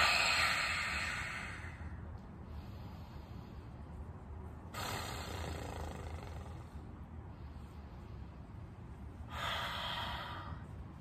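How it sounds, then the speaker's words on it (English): Slow deep breathing during an abs workout, long airy inhales and exhales close to the mic, a few drawn-out breaths with soft noise in between. "take a few deep inhales and exhales here"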